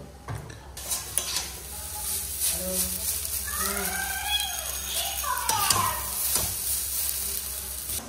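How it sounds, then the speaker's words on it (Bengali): Chow mein stir-fried with soy and other sauces in a wok, a continuous sizzle with scraping and stirring clatter, while children's voices and chatter sound in the background. "সসগুলো দিয়ে একবারে মিশিয়ে চাউমিনটা রেডি করে নেবো"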